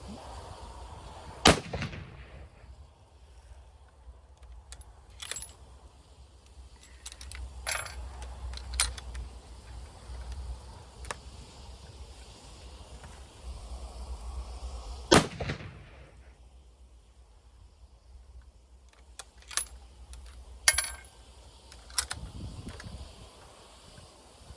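Sharp, loud rifle shots from a Winchester Model 70 in .264 Win Mag at an outdoor range, three widely spaced cracks, each followed by a short echo, with small clinks and handling noises between them.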